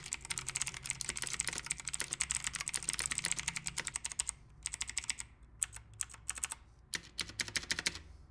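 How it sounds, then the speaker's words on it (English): Rapid clicky typing on an ET ROBOT mechanical keyboard fitted with Huano blue switches, dense keystrokes that slow into sparser, separate clacks, close and alone. "You still get that satisfying click and the tactile bump that you expect from Cherry Blues while typing."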